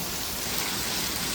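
Rain pours down in a dense, even hiss that fills the short moment without a break, close and fairly loud.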